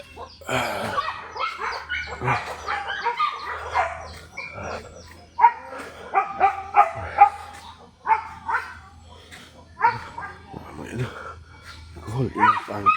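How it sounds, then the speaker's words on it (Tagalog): Dogs bark and yip intermittently, close by, mixed under near-continuous conversational talk. "Ingay aso namin."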